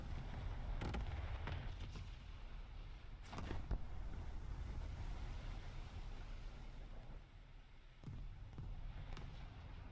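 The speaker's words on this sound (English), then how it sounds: "That was artillery strike." Artillery strike in the naval battle game War Thunder, heard while playing the cruiser Sendai: a steady low rumble of explosions with a few sharp bursts, one early and one near the middle, with no talk over it.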